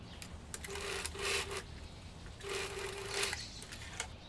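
Sewing machine running in two short bursts, stitching the ends of a waistband together, with a steady mechanical whir close by, separated by a brief pause and faint handling sounds.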